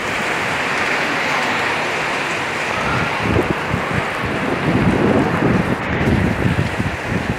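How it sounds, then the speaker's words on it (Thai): Heavy rain pouring down at the Nong Khai border checkpoint, a dense steady hiss with gusty wind buffeting the microphone and low splashing rumbles growing stronger midway. "ฝนตกนะครับแต่ว่าคงไม่น่าจะตกเยอะนะดูแล้ว"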